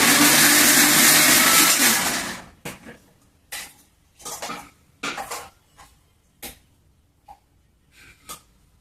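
A mixer grinder whirs loudly for about two seconds while grinding yellow cucumber chutney, then stops, followed by several sharp clatters and knocks of the jar and utensils.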